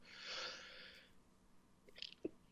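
One person sneezes once, faintly, with a brief hissing burst followed by a few soft sniffs and breaths.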